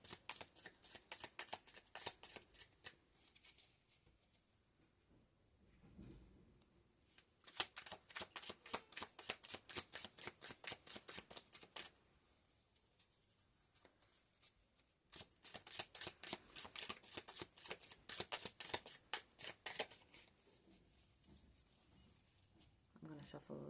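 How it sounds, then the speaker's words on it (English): Tarot cards are shuffled repeatedly in rapid riffling bursts, each lasting a few seconds with quiet pauses between, close and clear, with a voice talking softly underneath. "I'm gonna shuffle a little bit and then I'm gonna take some"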